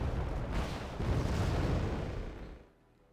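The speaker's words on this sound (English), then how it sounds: "A few final bombing runs." Deep rumbling explosions from bombing runs in Wargame Red Dragon, a heavy sustained roar of blasts that swells, holds and then fades out near the end.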